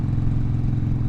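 A Harley-Davidson motorcycle engine running at idle, a loud, close, deep steady rumble with a low throbbing pulse and no voices.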